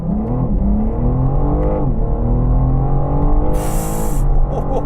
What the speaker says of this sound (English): Now I'm revving it in car, that sound does sound ever so slightly synthesized